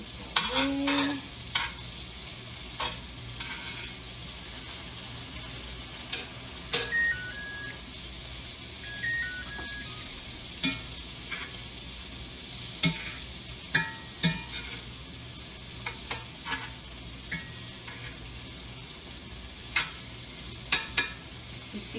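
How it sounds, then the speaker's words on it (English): Shrimp sizzle softly in garlic butter with white wine in a frying pan, a steady low crackle broken by frequent sharp clicks and scrapes of a utensil against the pan. "Now let's cook the other side of our shrimp"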